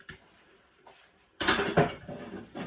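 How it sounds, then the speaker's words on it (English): Baklava cheesecake batter being mixed with a nut mixture and sugar in a bowl, a utensil scraping and clinking against the dish in close, uneven strokes. "now just going to mix all this together"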